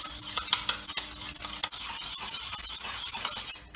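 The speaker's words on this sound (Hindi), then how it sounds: "अब ये सब चीज़ों को अच्छे से हम मिक्स करेंगे जब तक कि ये घुल न जाए अच्छे से" Sugar is stirred into dhokla batter in a bowl, with close, brisk scraping strokes and light clinks of the utensil against the container, repeating in a quick, uneven rhythm.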